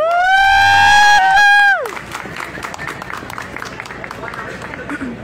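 An audience at a book presentation at a book fair gives a loud, sustained, wavering whoop, then breaks into dense, close-sounding clapping and cheering that continues to the end.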